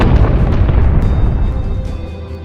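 Loud bomb explosions from the 1930s, a continuous heavy rumbling boom with bursts and crackle, fading slightly toward the end and heard with no speech.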